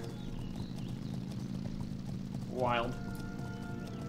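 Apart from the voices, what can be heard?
horses in video game World of Warcraft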